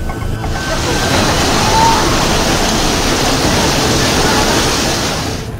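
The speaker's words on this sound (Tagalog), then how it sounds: "makikita ang malakas na pagragasa ng tubig sa Wawa Dam sa Rizal" Heavy floodwater roars steadily over Wawa Dam in Rizal, a loud continuous rushing wash with no break, close and powerful throughout.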